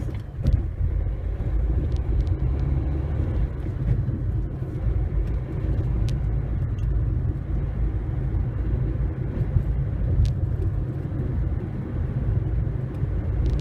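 Car engine pulling away from a stop sign and building speed toward 50 km/h on a road near Strasbourg, a steady close low rumble with road and wind noise throughout and no talk.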